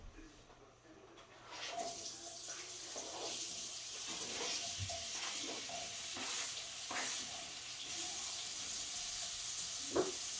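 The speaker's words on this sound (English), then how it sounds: "Nothing more delicious sounding than the sizzling in grease." Potatoes fry in bacon grease in a pan, a faint, steady sizzle that starts after a quiet moment, with occasional stirring and scraping sounds.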